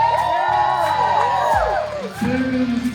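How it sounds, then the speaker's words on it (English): Wrestling event crowd cheering and whooping loudly and close, with shouts and yells rising over a dense roar, dipping briefly before surging again. "We need to cheer when we see somebody we like."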